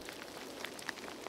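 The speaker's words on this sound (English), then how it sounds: "it's raining. It's pouring." Rain in The Cursed Forest game, a faint, soft patter of scattered drops falling steadily with no voices.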